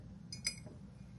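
Glasses clink together in a toast, a couple of quick, bright, close chinks over a low background hum, with no talk over them.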